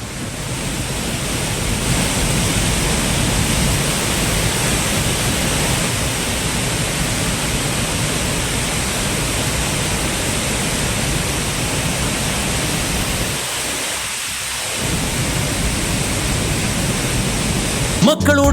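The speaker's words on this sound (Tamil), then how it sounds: "குற்றாலத்தில் அனைத்து அருவிகளிலும் வெள்ளம் ஆர்ப்பரித்து கொட்டுகிறது" Flooded waterfalls at Courtallam roaring in full spate, a steady loud broadband rush of falling water that continues almost unbroken, dipping briefly near the end.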